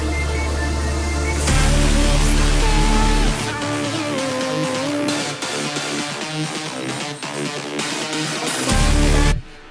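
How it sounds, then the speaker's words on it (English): Aggressive synth rave stabs drive a heavy trap/dubstep intro, bright chordal hits over a booming sub-bass drop, loud and dense throughout with a brief pause near the end before the low end slams back in. "But yeah, that's how I made these Rave stabs."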